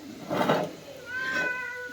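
Domestic cat meowing while being fed fish in a home kitchen, two clear, close meows in quick succession, the second higher and more drawn out, with no talk over them.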